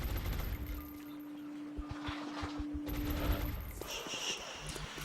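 Enemy gunfire in a turn-based strategy game, a quick run of sharp bursts near the start and middle, fairly loud, over a steady tone and game effects, with no one speaking.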